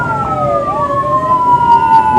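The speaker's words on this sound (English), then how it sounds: "This is actually Ashley's ambulance leaving right now on a call." An ambulance siren wails and sweeps in pitch as the vehicle leaves on a call, loud and close, with overlapping rising and falling tones over road rumble.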